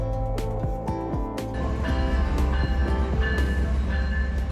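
Amtrak's Heartland Express, the daily Oklahoma City–Fort Worth train, rolls up to an outdoor platform in Fort Worth, Texas, with a loud, steady rumble, rhythmic wheel clatter and squealing tones as it arrives, heard close with no talking.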